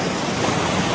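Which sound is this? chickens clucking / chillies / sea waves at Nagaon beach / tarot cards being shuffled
sea waves at Nagaon beach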